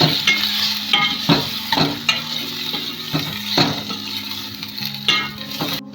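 Boiled potatoes stirred and fried in a pan for masala dosa filling, giving a steady close sizzle with repeated sharp scraping strokes of the spoon at an irregular rhythm.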